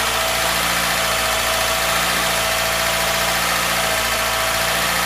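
A car engine idles with a steady, slightly knocking rumble, loud and close, running continuously with no voices.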